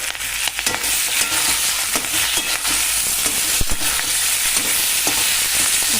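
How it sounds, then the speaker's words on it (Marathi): Capsicum stirred into softened onions frying in a pan for a besan shimla mirchi dish, giving a steady close sizzle with scraping stir strokes and a few sharper clatters, no talking. "आता यात शिमला मिरची टाकून घेऊया."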